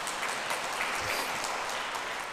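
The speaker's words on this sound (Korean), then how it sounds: "웬 박수" Applause from a Catholic parish audience during a priest's lecture, a short, even burst of clapping with no voices over it.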